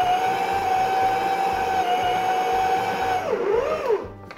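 Stand mixer fitted with a flat beater kneading half a kilo of re-milled durum semolina pizza dough, a steady loud motor whine with a rhythmic low thumping of the dough, the pitch dipping and wavering near the end as it slows.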